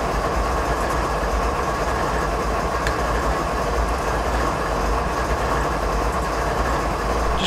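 An Alco diesel locomotive in a train simulator game runs steadily, with a loud continuous engine drone and low rumble, faint rail clatter and occasional clicks, no voices.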